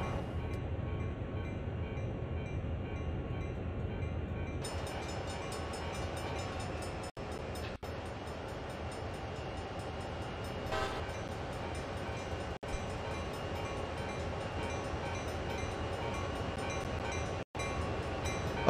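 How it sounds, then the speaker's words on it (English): Trains pass by in the rail simulator game Train Sim World, on a CSX heavy-haul route, producing a steady low rumble and rolling rail noise throughout, with a few brief sharp clicks and no speech. "I think some trains passing by."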